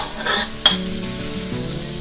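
Onions are stir-fried in a pan while making sausage with chili paste: a soft, steady sizzle with a brief scraping stir and one sharp utensil clink near the start, close and fairly loud.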